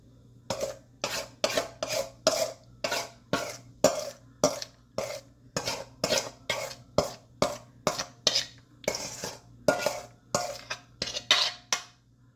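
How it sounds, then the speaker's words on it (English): Lemon raspberry bar mixture is scraped out of a bowl over the pan in a long run of steady, rhythmic scraping strokes, close and fairly loud, with no talking. "the mixture, this is going to be carefully dumped over top"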